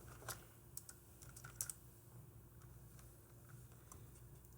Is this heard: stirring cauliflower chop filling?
no